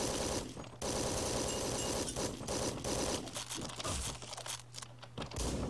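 Gunfire in the top-down video game Hotline Miami 2: Wrong Number, including a slow pump-action shotgun, heard as a few sharp shots and crunchy impacts over loud, steady driving game music.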